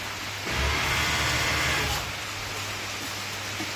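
Steady rain hisses as a broad wash of noise, swelling louder for a couple of seconds before easing back to a constant patter.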